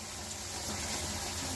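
Running water rinses freshly dyed cotton yarn in a kitchen, a steady, faint, even rush of flow with no voices.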